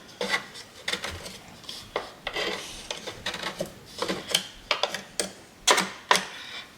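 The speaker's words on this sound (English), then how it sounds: "Once I've cleared this, we can reseat the hopper." An espresso coffee grinder's plastic hopper being cleared and reseated, giving a run of short dry clicks, scrapes and rubbing knocks at close range, irregular and fairly quiet, with no talk.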